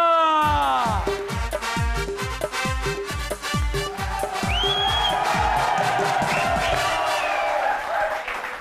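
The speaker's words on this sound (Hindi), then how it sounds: "आपकी तालियों में तशरीफ लाती हैं डॉक्टर काफ मीम साजिदा" Audience applause and cheering welcome a performer onto a comedy show stage, with loud, dense clapping and whoops throughout while rhythmic music plays alongside.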